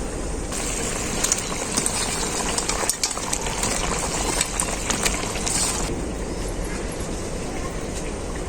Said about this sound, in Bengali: ঝোল খুব ভালোভাবে ফুটে গেছে